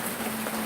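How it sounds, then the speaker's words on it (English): Rain pours steadily in a hillside coffee-growing area, a constant, even hiss of drops with no other sound. "Rain, right? Every day, almost on cue."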